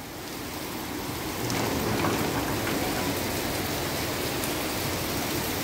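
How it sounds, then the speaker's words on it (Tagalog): Heavy rain pours down in a continuous, dense roar of droplets that swells a little after the first second and stays loud and steady throughout, with no voices. "ang lakas ng ulan guys"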